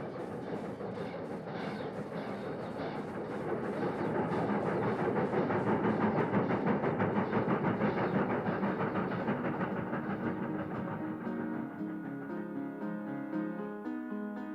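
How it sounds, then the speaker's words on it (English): A freight train hauling ice bunker refrigerator cars rolls past, its steady rumble and clickety-clack of wheels swelling as it nears, then easing away while metallic squeals ring out near the end. "A bit down the line is a train loaded with ice bunker refrigerator cars."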